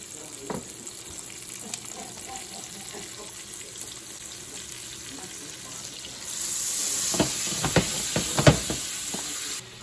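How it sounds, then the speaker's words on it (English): Butter melts into olive oil in a hot pan, a soft sizzle that swells louder partway through, with a few clatters of utensils. "I'm going to put a little butter in there too"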